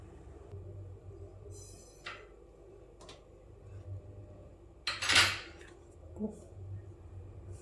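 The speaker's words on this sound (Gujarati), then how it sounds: "કોકો પાવડર નાખ્યા પછી બહુ નથી શેકાવા દેવાનું, થોડું બધું મિક્સ થઈ જાય ને એટલું જ." A spoon stirs roasted semolina and cocoa powder in ghee in a pan. Scattered metallic scrapes and clinks sound against the pan, with a sharper burst of scraping partway through and low background noise.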